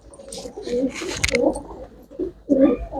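Domestic pigeons held for sale at a pigeon dealer's, giving several low, throaty coos in uneven bursts close by, with faint background noise.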